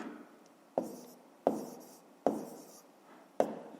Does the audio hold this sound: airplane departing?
no